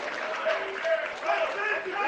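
Rally crowd at a political campaign kickoff cheering and applauding, a dense steady wash of clapping and voices with brief swells.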